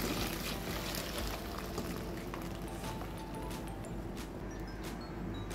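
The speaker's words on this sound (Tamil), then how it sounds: "சேர்த்தி கொஞ்சம் மாங்காய் கலர் வந்து 2 கொதி வரவுமே நம்ம அதை வடிகட்டிடலாம்" Boiled water draining off mango pieces being strained for sun-dried mango vathal, a steady close pouring and trickling rush of liquid running the whole time without talk.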